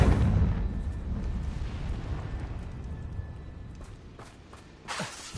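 The Confringo blasting spell in Hogwarts Legacy lands with a heavy booming explosion at the start, then a long rumbling decay and scattered crackles, ending with a sharp burst near the close.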